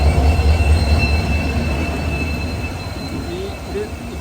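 A locomotive rolls past on the line with a steady low rumble and rattle that gradually fades, faint wheel squeal riding above the noise.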